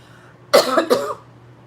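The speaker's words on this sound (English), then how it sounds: "I have to cough." Two quick, close coughs in a row, sharp and raspy, followed by quiet.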